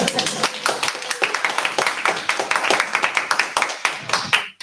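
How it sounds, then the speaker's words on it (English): Audience applause during an artist talk with a taiko performer, a small-to-medium crowd clapping in distinct, rapid claps that carry on for several seconds before tapering and stopping abruptly. "you can definitely applaud for that"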